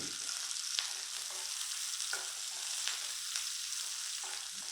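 Green chili, garlic and ginger sizzle and crackle steadily in hot butter and oil, a dense continuous frying hiss with occasional sharper spits and stirring scrapes, close and alone without talk.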